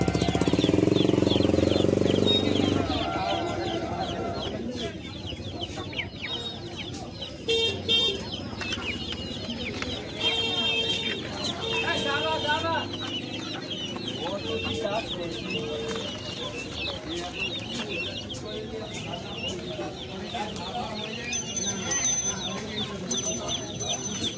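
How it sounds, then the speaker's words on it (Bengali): Chinese chickens clucking and crowing amid the bustle of a crowded poultry and duck market, loud and continuous with occasional horns and a steady din of background voices. "দেখুন চিনে মুরগি আছে।"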